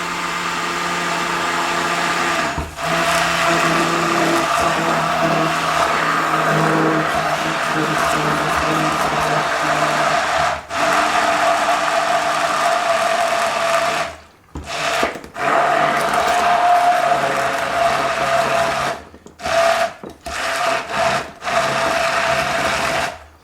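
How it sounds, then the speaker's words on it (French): Oil is blended into a marinade-based sauce to emulsify it, making a loud, steady mechanical whir that runs continuously for about fifteen seconds before breaking into short stop-start bursts. "On émulsionne, hein, ça fait une petite sauce émulsionnée."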